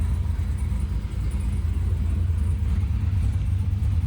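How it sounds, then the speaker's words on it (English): A Camaro with a swapped 6.0 V8 idling at about 800 rpm and running rich, a steady, close, low rumbling drone that holds even throughout with no talking. "Idling at about 800."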